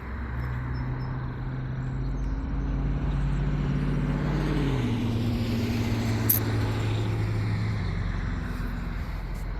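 Stearman biplane radial engine running at a fly-in before departure, a steady loud low drone with shifting pitch, continuous and alone throughout.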